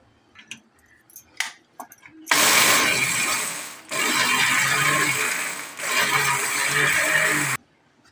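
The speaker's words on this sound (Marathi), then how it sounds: "आता आपण मिक्सरमध्ये याला बारीक करून घेऊया" A kitchen mixer grinder whirs loudly, grinding hard roasted cardamom pods with their shells into powder in three bursts, each with a brief dip in between, after some quiet clinks.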